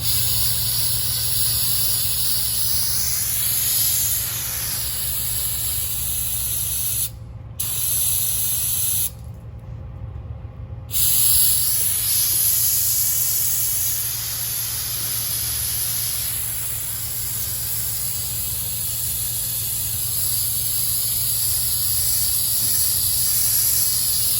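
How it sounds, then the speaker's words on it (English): Long loud bursts of aerosol parts cleaner hiss close by onto tractor-trailer wheel seal parts, broken by two short pauses, then a steady spray continues to the end. "you guys see I got the parts cleaner."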